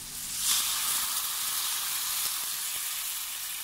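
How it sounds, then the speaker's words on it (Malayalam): Second coconut milk poured into a hot pan for Kerala-style fish molee, giving a steady, loud broadband sizzle with a brief surge at the start, continuous and alone without talk. "ഇനി ഇതിലേക്ക് ആക്കി വെച്ചിട്ടുള്ള തേങ്ങയുടെ രണ്ടാം പാല് ചേർത്ത് കൊടുക്കാം."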